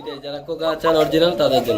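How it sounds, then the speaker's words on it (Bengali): Pair of Kuka pigeons coo up close in a pigeon farm, with repeated throaty, rolling coos mixed with someone speaking over them. "যারা অরিজিনাল কুকা কবুতর কিনতে চান ডাকাডাকি শুনতে পছন্দ করেন"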